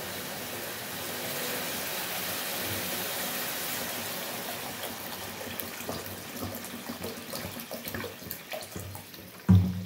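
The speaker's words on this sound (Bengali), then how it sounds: "এবার দিয়ে দেবো জল।" Water streams steadily into a pan of fish curry with potatoes, a continuous close pouring hiss that thins toward the end and finishes with a brief clunk.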